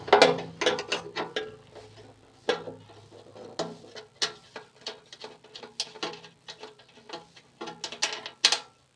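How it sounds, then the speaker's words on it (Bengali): A nut is unscrewed from a Hero motorbike fuel tank with a ratcheting tool, producing a run of quick metallic clicks in short irregular bursts, close and fairly quiet, with no voices. "দুটো নাট খুলে নিলাম।"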